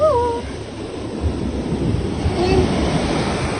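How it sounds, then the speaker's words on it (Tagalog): Steady roar of ocean surf on a Boracay beach, with wind noise buffeting the microphone and a brief voice at the start. "Napakaganda naman ng beach na ito."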